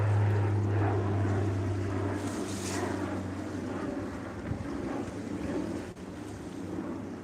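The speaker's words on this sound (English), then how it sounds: "Oh, actually there's another plane, guys." A plane passes near Billy Bishop Airport on Toronto's waterfront, a broad airborne roar mixed with wind buffeting the microphone and waves nearby, strongest early and gradually easing, with no talking.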